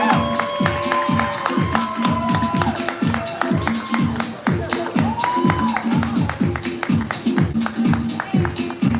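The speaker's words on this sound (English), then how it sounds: "Please start clapping hands. Please start making noise for Blair." Live audience at a poetry event claps and cheers for a poet taking the stage, with loud rhythmic group clapping in a regular beat, crowd noise and some voices throughout.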